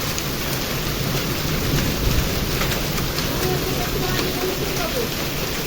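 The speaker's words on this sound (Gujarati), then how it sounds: "બહુ જબર કરા પડ્યા છે" Hailstones and rain pelt down steadily during a summer storm, a dense broadband clatter with wind and low rumbles running throughout at close range.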